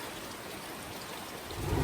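Heavy rain pouring down outdoors as a dense, steady hiss with a slight swell at the end, no voices.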